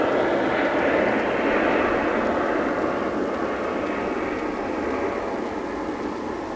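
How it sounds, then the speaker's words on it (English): A passenger jet takes off from DFW International Airport, its engine roar a loud, steady broadband rumble that holds throughout and eases only slightly toward the end, with no voices over it. "There's another plane taking off here on the west side."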